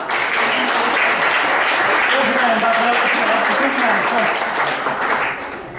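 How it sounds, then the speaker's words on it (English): An audience at a stage hypnosis demonstration applauds a volunteer, a full, sustained round of clapping, with a few voices and a faint cheer rising beneath it before it begins to thin out. "Give Karen a round of applause"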